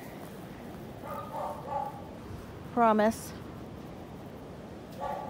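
A dog in a barn during clean-out gives a short burst of yipping barks with faint whimpers before and after, close by, while a person speaks briefly.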